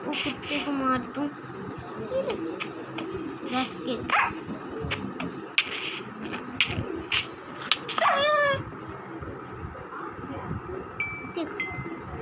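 A dog in the Minecraft video game barks and yips several times in short bursts, close and fairly loud, over continuous talking and game background noise.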